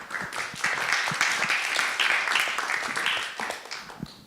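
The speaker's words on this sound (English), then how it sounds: "Shall we give them a warm round of applause while one of them is stepping forward?" Audience applause at a panel event, a sustained round of many hands clapping fairly close, swelling and holding steady before tapering off toward the end.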